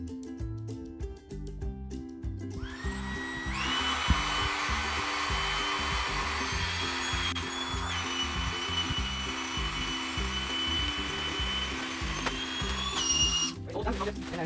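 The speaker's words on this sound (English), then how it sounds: "So you can see how quickly you can inflate this double sleeping mat." A Max Pump 2 air pump inflating a double sleeping mat whines loudly and steadily for most of the stretch, starting after a short lead-in and cutting off near the end, with background music underneath.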